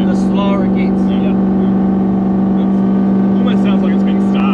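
A Toyota 1UZ V8 fitted in a Gen 2 4Runner/Surf with a solid front end runs fuel-starved, a loud, close, steady droning hum from inside the moving vehicle while people talk over it.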